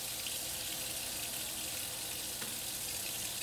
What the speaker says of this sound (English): Rinse your fingers, your hands, using your wrist to twist them around, point your fingers down